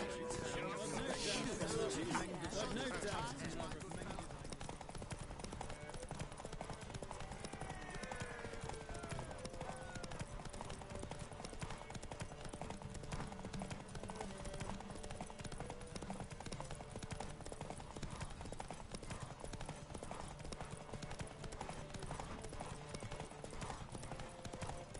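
Horse hooves galloping in the video game The Witcher 3, a steady rapid clip-clop rhythm running throughout with a brief whinny near the start, while people talk over it.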